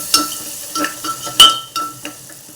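Turmeric being stirred into cooked tomatoes in a pan for moong dal khichdi, with a utensil scraping and clinking against the pan in several separate strokes, close and fairly loud, no talking.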